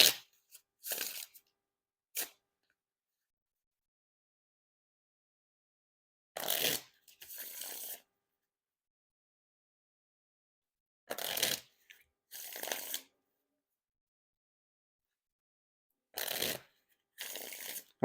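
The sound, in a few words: riffle shuffle of Dan and Dave playing cards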